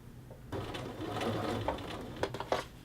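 A sewing machine starts after a short pause and runs steadily while edge stitching a shirt collar band, its motor humming close and quiet with a few sharper ticks near the end.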